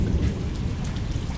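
Heavy rain pours down during a thunderstorm while fishing on the Parramatta River, a dense, loud, steady roar of drops with a deep low rumble underneath and no talk.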